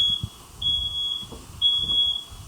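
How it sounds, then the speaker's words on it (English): Fire alarm sounding indoors, a shrill high electronic tone in repeated long beeps with gaps between them, moderately loud and slightly distant, over soft background noise and rustling. "Oh, here goes the fire alarm."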